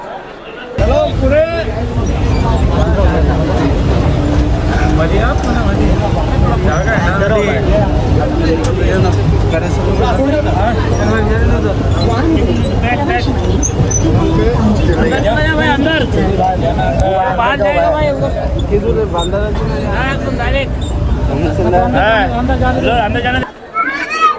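A crowded Mumbai local train at the Dadar fast platform, with loud, constant crowd babble and rumble throughout and someone talking over the dense hubbub.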